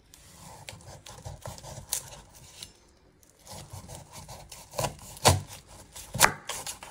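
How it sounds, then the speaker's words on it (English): Kitchen knife chopping an onion on a cutting board, a few sharp separate cuts with scraping between them, the last two the loudest, close by with no talk. "You're first going to chop your end off."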